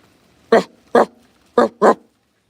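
A person mimics a dog's bark with their voice, four short separate woofs delivered close to the microphone, the first two spaced apart and the last two quicker together.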